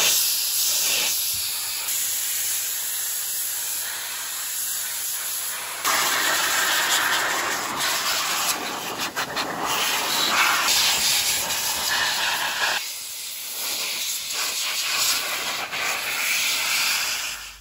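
A powerful air blower hisses steadily while drying off a freshly washed KTM 890R Duke motorcycle, a loud rushing airflow that rises and falls in intensity as the nozzle moves around the bike, with no talking.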